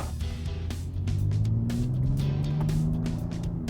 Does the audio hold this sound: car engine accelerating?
yes